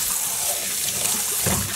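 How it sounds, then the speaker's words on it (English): Warm tap water runs steadily into a sink while freshly dyed cotton is rinsed, a continuous close hiss with a brief heavier splash near the end. "We're rinsing on warm water also."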